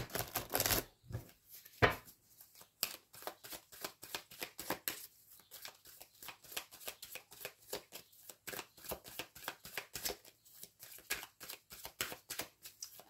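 Tarot cards being gathered and shuffled by hand, a steady run of quick papery riffles and soft slaps close up, with a brief louder burst near the start.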